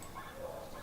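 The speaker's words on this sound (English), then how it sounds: "She hears other dogs." Dogs bark nearby in a single brief, faint burst heard outdoors.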